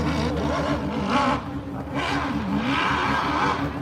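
A nitro drag bike tears down the strip at Freemansburg, PA, its engine a loud, continuous roar with rising and falling pitch sweeps across the run, with no gaps or pauses.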